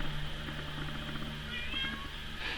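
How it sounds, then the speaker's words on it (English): A house cat meows repeatedly from behind a shut door, its calls muffled but clear over a steady low household hum, with no one talking. "There's the cat meowing."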